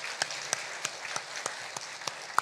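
A church congregation claps in a slow, even rhythm, with sharp single claps spaced roughly a third of a second apart, fairly quiet against a soft room background.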